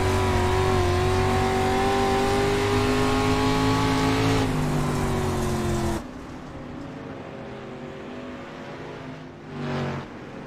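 Race cars thunder past in the iRacing video game, loud engine whine with rising and falling pitch that cuts off abruptly, leaving a quieter roar and a brief passing surge near the end.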